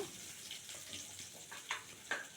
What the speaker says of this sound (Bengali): তো পেঁয়াজটাকে আমি কিছুক্ষণ ফ্রাই করে নিব